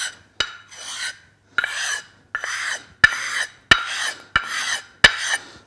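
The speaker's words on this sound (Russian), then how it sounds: "можно его скруглить, в принципе, даже тем же 200-м камнем" Curved-edge knife rounded on a 200-grit sharpening stone, giving seven distinct raspy scraping strokes, each starting with a sharp click and fading out, close and fairly loud with short silent pauses between.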